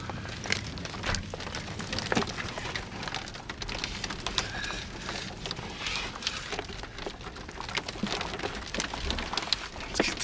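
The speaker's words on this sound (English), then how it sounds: "just in a matter of seconds it has started to rain" Heavy rain with big, fat raindrops suddenly starts falling outdoors, a dense steady patter of drops hitting surfaces close by, with scattered louder individual splats throughout.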